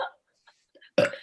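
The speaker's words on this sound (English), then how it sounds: "sometimes soda burps really backfire on me" One short, rough burp from a young woman after drinking soda, bursting out loud and close at the end after a few faint mouth and throat noises.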